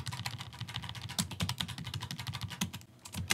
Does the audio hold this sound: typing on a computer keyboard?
yes